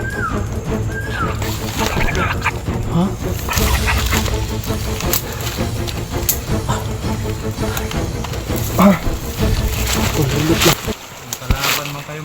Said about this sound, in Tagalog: Tumutunog pa rin yung ibon.